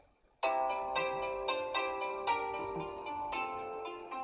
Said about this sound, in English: I have my phone on Do Not Disturb, and I don't know why it's ringing